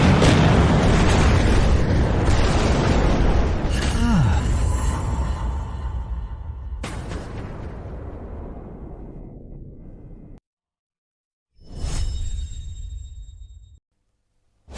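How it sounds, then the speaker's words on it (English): Cannons firing in a battle scene, a series of heavy booming blasts and rumbling explosions that roll on for several seconds, then a silent gap before another loud burst and a final sudden hit. "Fire the cannons!"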